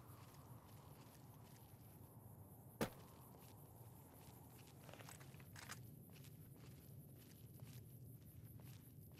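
Footsteps of the player's own character walking in Fallout New Vegas, soft, irregular steps at a moderate distance under a steady low ambient hum, with one sharp loud crack early on.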